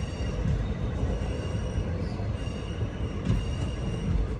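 The Chemmozhi Express rolls into Mannargudi station on platform two, a steady low rumble of wheels with faint squeals.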